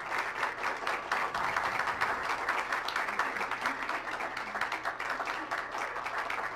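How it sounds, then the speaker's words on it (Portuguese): Audience applause at an event in Brazil's TCU on climate justice, a steady dense clapping filling the room for several seconds with no voices over it. "Mais palmas, por favor"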